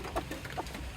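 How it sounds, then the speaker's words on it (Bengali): A broody hen clucking in a coop where several hens sit on eggs, a few close, repeated throaty clucks in quick succession over about a second, with no talk. "দেখি এই মুরগি এত শব্দ করতেছে কি জন্যে।"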